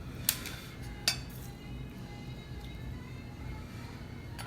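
Two sharp metal spoon clinks against a pan while oil is spooned over roasted potatoes with olive oil, butter, anchovies and capers, then a low steady background hiss.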